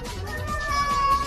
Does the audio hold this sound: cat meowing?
yes